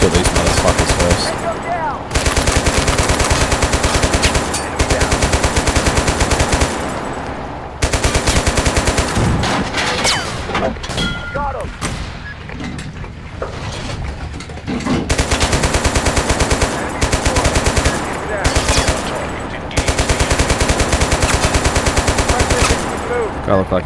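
Sustained rapid gunfire in an Arma-style combat game blending Bannerlord and Total War, loud bursts of automatic fire that cut out briefly around two and eight seconds and thin out mid-clip before resuming heavily.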